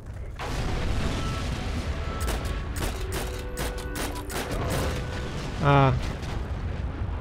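Tank cannon fire hitting a house in the World War II shooter Heroes and Generals, heavy booming blasts and rumbling impacts under steady battle noise, with a brief voice near the end.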